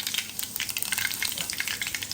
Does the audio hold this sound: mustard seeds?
yes